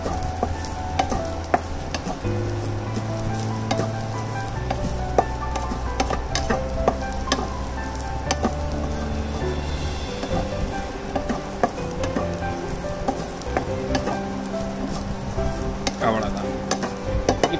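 Ingredients for prawn vadai sizzle steadily as they are stirred and sautéed in a pan, with scraping stirs over continuous frying and faint tonal music underneath.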